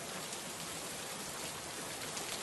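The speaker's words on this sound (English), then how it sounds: "Like right now, we have some drizzly rain outside" Light drizzly rain falls steadily outdoors near a front porch, a soft continuous hiss of fine drops with no voices, even and unbroken throughout.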